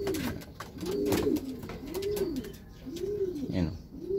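Pigeons coo nearby in repeated rounded, throaty calls, about four in a slow rhythm, with faint clicks and rustling in the background.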